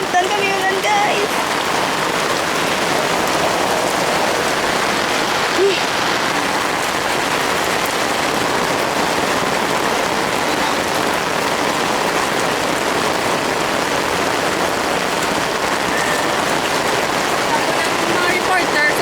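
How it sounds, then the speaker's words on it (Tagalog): Steady heavy rain patters on a surface throughout in Baguio, a dense continuous hiss with voices faintly mixed in beneath it. "Ay, nabdan kami ulan"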